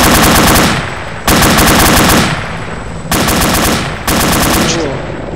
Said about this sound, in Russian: Рядом стреляют. Калаш